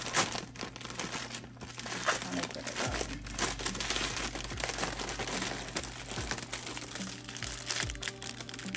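A plastic vegetable bag holding a pack of noodles is handled close by, crinkling and rustling steadily throughout, with a low background hum.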